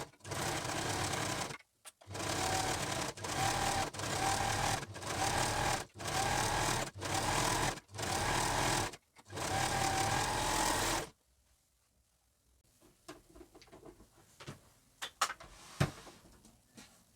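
An overlocker sews a fabric head band in a run of about eight fast bursts of rapid mechanical stitching, with short pauses between them, then stops, leaving quiet handling clicks and taps.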